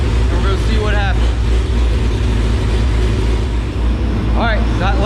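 A 392 6.4 Hemi engine with a Holley Dominator setup roars on a dyno as a loud, steady low rumble, with voices talking over it throughout.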